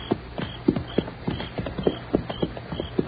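A galloping horse made as a sound effect for a western radio drama, a steady run of hoofbeat clip-clops at a quick, even pace, close and clear over a faint background, with no talk.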